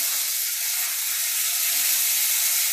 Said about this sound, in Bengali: নুন দিয়ে একটু কষাই করব। দেখুন তেল ছেড়ে এসছে কড়ায়